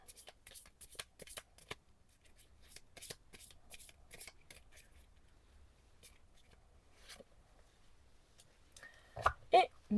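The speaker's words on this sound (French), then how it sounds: "je vous propose de vous tirer une petite carte comme pour l'autre" Oracle cards being shuffled and drawn, with a run of quick, crisp riffling flutters at the start, then scattered soft card slides and taps, close and quiet, and a brief murmured voice near the end.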